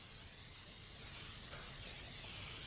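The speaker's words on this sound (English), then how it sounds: "I'm going to spray it with cooking spray." Cooking spray hisses into a large casserole dish in one continuous, soft, airy spray lasting a few seconds, close but quiet, with no talking.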